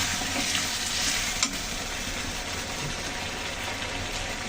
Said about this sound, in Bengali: দিচ্ছি আদা। মরিচটা দিয়ে ভালো করে কষিয়ে নেব।